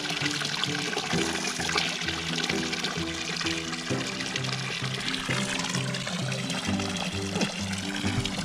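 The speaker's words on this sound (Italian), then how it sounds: "Qui abbiamo una bella fontanella, bella bella, con l'acqua rigogliosa." Water pours steadily from a public drinking fountain in Sardinia, a continuous splashing and trickling stream close by, with no voices over it.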